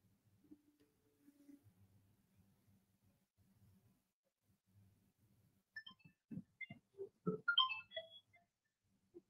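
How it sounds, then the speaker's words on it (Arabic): A second phone rings faintly in the background of a call: soft, quiet melodic ringtone notes arrive in a short cluster near the end, after a stretch of low, muffled murmuring. "هذا في جهاز ثاني جالس يرن"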